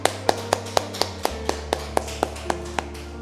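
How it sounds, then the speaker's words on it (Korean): A church congregation clapping hands together in a steady rhythm, about twelve evenly spaced sharp claps over a low sustained musical hum, close and even, with no talking. "우리 박수 한번 쳐봅시다"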